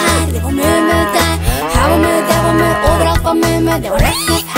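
A children's farm song set to bouncy music, with a singing voice imitating a cow's moo in drawn-out, pitch-sliding syllables over a steady beat.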